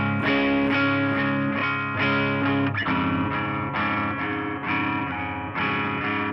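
Distorted electric guitar strumming chords from the bridge of a song, loud and sustained with chorus-like shimmer, chords changing every second or so, no voice.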